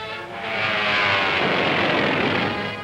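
A World War II warplane roars past in wartime newsreel footage, a loud swelling engine drone that rises, holds and fades over a few seconds with no anti-aircraft bursts evident.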